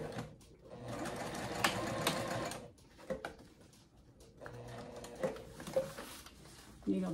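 A sewing machine stitches a Sallie Tomato circle bag in bursts of steady mechanical whirring, pausing briefly between runs, close and fairly loud with faint clicks of the mechanism.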